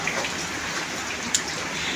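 Steady rain pours down in a dense, even hiss, with a single sharper drip standing out briefly.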